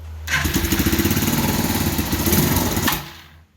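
A motorcycle engine cranks and sputters into a rough, uneven run for a few seconds, then cuts out; loud and close, no voices.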